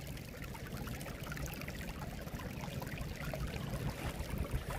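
Storm water from flash flooding rushes through a yard drain and French drain combination feeding a dry well, a steady, dense gurgling flow that stays loud and unbroken throughout.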